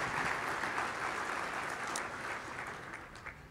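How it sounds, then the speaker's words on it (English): Applause from a luncheon audience fills the room at a steady level, a dense continuous clatter of many hands that eases slightly toward the end, with no voices over it. "How about a round of applause for those additional leaders"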